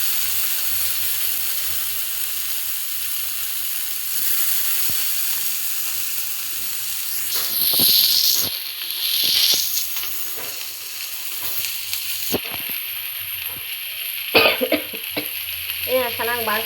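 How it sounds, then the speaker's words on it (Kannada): Potato slices, tomato and green chilli sautéing in a pan: a constant frying sizzle fills the clip, broken by intermittent stirring scrapes and utensil knocks, with a brief hiss of steam later on. "ಇವಾಗ ಆಲೂಗಡ್ಡೆ ಸ್ವಲ್ಪ ಬೆನಿಬೇಕು, ಬೆನೆವರೆಗೆ ಸ್ವಲ್ಪ ಹಂಗೆ ಬಾಳಿಸ್ತೀನಿ"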